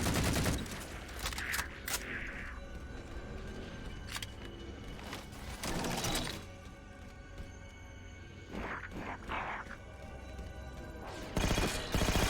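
Halo 4 on PC, a firefight with rapid bursts of gunfire and sharp impacts that come and go in clusters, punctuated by quick whooshing effects, moderately loud and close.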